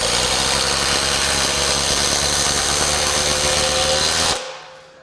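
A DeWalt DCF845 impact driver drives a screw with a loud, steady, close-up buzzing hammer that runs for over four seconds and then stops abruptly.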